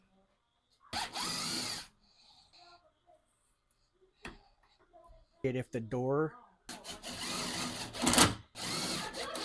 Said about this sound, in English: we're using a drill